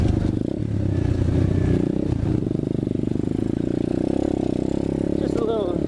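An Apollo 125cc dirt bike, still running after a crash, chugs along a trail with a steady, close, buzzing engine pulse and some clattering, while a voice talks over it.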